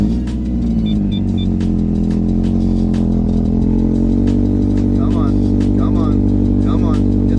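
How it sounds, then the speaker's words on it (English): A car's engine idles steadily just after a cold start, a loud continuous low rumble with a faint rattle, sounding on its own throughout. "Yeah, it's a normal idle."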